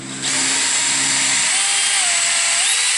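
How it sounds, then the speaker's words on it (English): A power drill whines steadily and loudly for the whole clip, drilling up through the bottom of a trail camera, its pitch shifting slightly as the bit bites into material, close by. "I'm going to drill a hole right up through the bottom."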